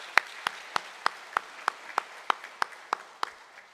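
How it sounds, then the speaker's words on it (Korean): Sparse, evenly spaced claps from a church congregation during a Sunday worship service, about ten sharp hand claps in a steady rhythm, moderately faint and with no voices over them. "남성 동무들께서 우리 여성 동지들에게 큰 박수를 해주셨으면 좋겠습니다."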